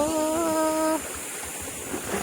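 River water rushes in a steady broad wash throughout, with a droning tonal hum over the first second before it fades, leaving the continuous flow alone.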